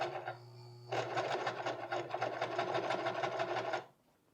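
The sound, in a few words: sewing machine top stitching high waisted pleated pants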